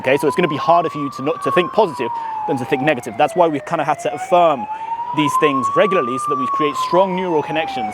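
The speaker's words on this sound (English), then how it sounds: "the fucking ambulance is coming around now." An ambulance siren wails outside, rising and falling slowly and clearly audible under a man's close, continuous speech.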